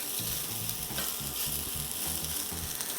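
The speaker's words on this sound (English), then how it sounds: "So let's get this going here. Stirring all the time. You don't want anything to burn." Onion and fideo noodles fry in a hot pan while being stirred constantly, a steady close sizzle with soft scraping and rustling movements, no voices over it.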